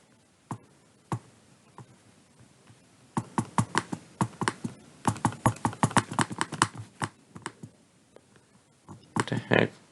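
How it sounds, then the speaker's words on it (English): Sharp mouse or key clicks during play of the Stacky Bird game, scattered at first and then in rapid, uneven bursts, close and crisp. "I guess I just gotta keep clicking."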